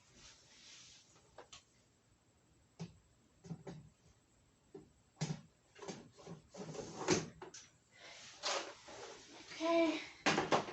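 A drawer of junk wires and keychains is pulled open and rummaged through, giving a string of scattered knocks, scrapes and rattles at close range.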